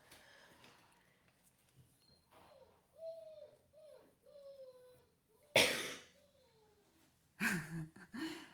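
A dog makes a series of soft, low cooing moans that sound like a pigeon, broken by two louder bursts of noise.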